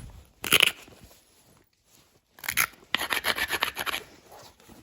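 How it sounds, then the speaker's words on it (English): Hammerstone trimming the edge of a stone, giving short gritty scraping and rasping strokes up close: one brief burst early, a pause, then a longer run of repeated abrasive rubs. "it's helpful to do that trimming with the hammerstone so you can create those angles on the"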